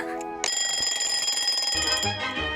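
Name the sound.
alarm clock ringing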